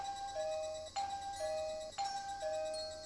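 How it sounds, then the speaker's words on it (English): A doorbell in the visual novel Higurashi When They Cry chimes three times in an even, repeated electronic ding-dong pattern, fairly clear and alone against a quiet background. "I rang the doorbell, but there was no response."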